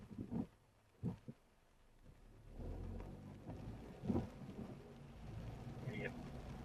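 Steady rain on a road at night, a continuous wash of drops with low rumbles of thunder rising through it, moderately loud throughout.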